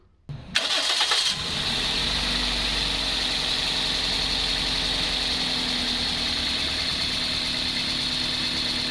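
A car engine starts with a short crank, then settles into a steady, even idle that hums on continuously at close range.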